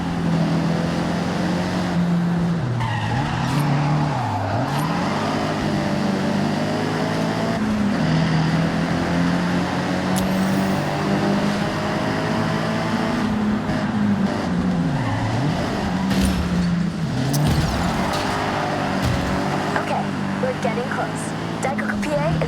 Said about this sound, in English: if I can slide a car around the corner, I probably will